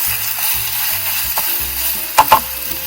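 Garlic and spinach frying in a pan while cooking halibut, a steady soft sizzle with a few louder stirring clatters near the end and no talking.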